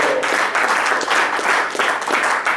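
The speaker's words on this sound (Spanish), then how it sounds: "Dele unas palmas fuertes a ese Cristo glorioso." A church congregation claps loudly and steadily during a worship service, a dense, sustained roar of many hands close by with no voices over it.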